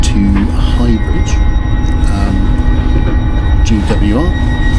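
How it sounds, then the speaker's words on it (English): Interior rumble of a GWR passenger train running from Bristol Temple Meads to Highbridge, a steady low roar with rattles and squeals throughout, with people talking in the carriage. "we boarded the next train, which is going to go from Bristol Temple Meads to Highbridge"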